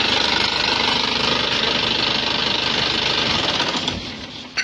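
An Isuzu Panther Touring engine running rough and clattery up close, a steady uneven rumble that winds down as it shuts off at the end.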